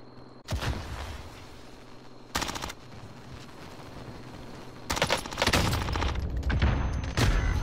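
Gunfire in the battle royale game Warzone: a few sharp bursts near the start, then heavier overlapping shots and booms crowding the second half, loud and close against a steady game background.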